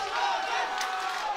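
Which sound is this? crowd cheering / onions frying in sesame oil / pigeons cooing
crowd cheering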